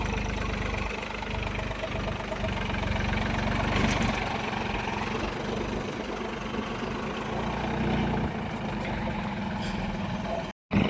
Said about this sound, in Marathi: तर बा दुसऱ्या वावरात आलेलं आहे ट्रॅक्टर.